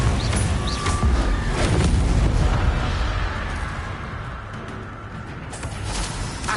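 Confringo blast spell going off in Hogwarts Legacy, heard as a dense, loud, continuous roar of crackling explosive noise with a deep rumbling low end that eases slightly partway through.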